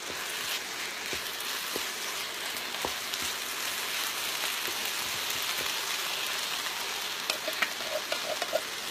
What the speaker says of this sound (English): I'm going to add 2 cans of fire roasted tomatoes